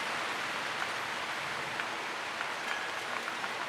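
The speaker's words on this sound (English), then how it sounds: "yes, you hear the rain" Steady rain falls in a soft, even hiss, with occasional louder drops pattering on a nearby surface.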